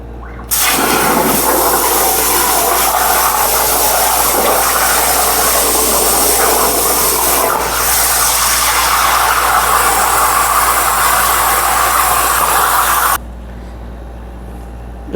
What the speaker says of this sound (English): first time with the plasma cutter. We're doing a 4x4 heart